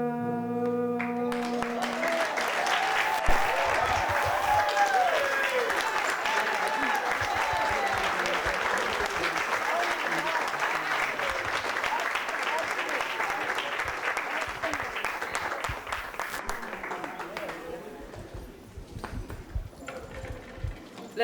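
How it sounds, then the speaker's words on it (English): Audience at a middle school event applauds a student after his speech, a long, dense burst of clapping that holds steady for most of the stretch, then thins and fades near the end. "Let's give Joseph another round of applause."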